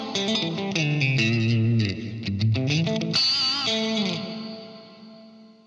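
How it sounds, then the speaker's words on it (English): Electric guitar notes and chords played through a TC Electronic Infinite Mini reverb pedal with lush reverb, the tones ringing out and trailing off into a washy decay. "if I play something on my guitar right now, you are going to hear some reverb."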